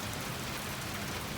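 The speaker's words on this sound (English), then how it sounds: "Trying to stay out of the rain real quick." Steady rain falls continuously, a dense even hiss of drops with no other sounds standing out.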